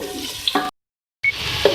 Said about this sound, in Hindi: ये देखिए हमारी प्याज जो है फ्राई हो रही है।